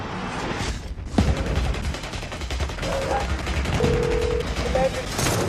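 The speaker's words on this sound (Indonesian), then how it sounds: "Sungguh sial mereka yang membawa senjata itu kemudian menembak Tom yang nampak sudah terhubung dengan layanan darurat tersebut." Gunfire in a dramatic film scene where armed men shoot at a young man, heard as bursts of shots and impacts over music and background sound, with faint voices mixed in.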